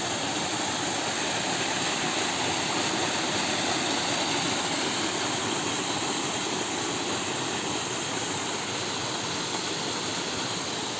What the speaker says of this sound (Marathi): हो बघा मंडळी आमचो बानवाडचो धबधबो एक नंबर पाणी या